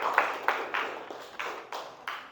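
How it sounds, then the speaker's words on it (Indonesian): A classroom of students claps together during a lesson, a few strong clustered bursts of hand claps at a steady rhythm, moderately close and fairly soft, with no talking over it. "Tepuk tangan dulu untuk kita semua."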